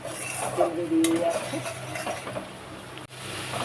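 Spice paste frying in oil is stirred in a pan for a fish curry with eggplant, giving a close sizzle with scraping and clinking of a spoon against the metal, loudest early on before easing off.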